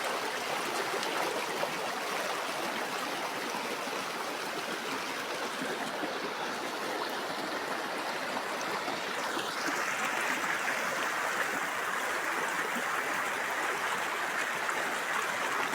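Continuous rushing and babbling of a flowing stream, steady and moderately close, with no voices, a bright watery hiss throughout.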